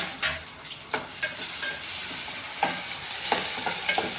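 Onions frying in a pan with a little salt for a potato kurma: steady close sizzle with scraping stir strokes and light clatter at irregular intervals, no voices.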